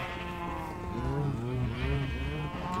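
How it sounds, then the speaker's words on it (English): Minecraft sheep bleat repeatedly in wavering, overlapping cries at close range, with soft lowing tones and a steady game background beneath. "Look at all the colored sheep we have."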